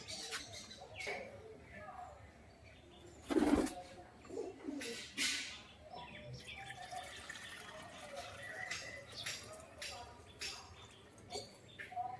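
Soft, low pigeon cooing comes and goes in a quiet space, mixed with light water sounds and a voice in the background.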